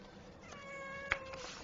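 A cat gives a single drawn-out meow, faint and tonal, with a sharp brief click or tap partway through against a quiet indoor background.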